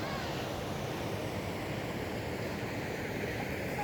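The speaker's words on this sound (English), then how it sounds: "This is the glacier being melted away by the rushing water down through it." Rushing glacier meltwater pours down through melting ice outdoors, a steady, loud broadband roar of flowing water that holds unbroken throughout with no speech.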